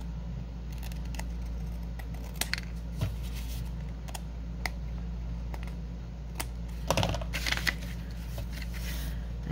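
Scissors snip through a paper grocery bag while the bottom is trimmed off in a craft project, giving scattered short cuts and crisp paper rustles over a steady low hum, fairly close and moderately quiet.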